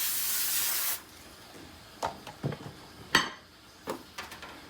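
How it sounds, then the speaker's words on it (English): Cooking spray is misted in a kitchen during low-carb meal prep: a loud, steady hiss lasting about a second, then several short clatters of dishes and utensils. "I am going to spray it a little bit."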